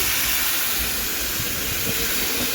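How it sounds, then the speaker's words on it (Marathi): Boiled water is poured slowly into a hot pan of kurdai, giving a continuous loud steamy hiss and sizzle with faint bubbling, no voices. "आता आपण उकळलेलं पाणी जे होतं ते घालणार आहोत।"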